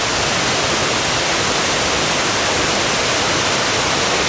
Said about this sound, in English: Alright, I've found this waterfall.